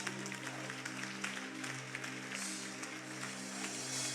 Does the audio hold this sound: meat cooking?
no